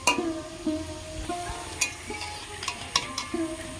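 Potato snacks frying in oil in a pan, a soft steady sizzle broken by scraping and clinking as pieces are turned, with small metallic taps scattered through.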